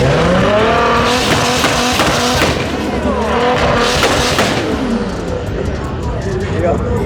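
Loud, crackling bursts from a big-turbo 2JZ engine in an MK4 Toyota Supra two-step revving, popping and rising in pitch repeatedly, with people talking over the noise.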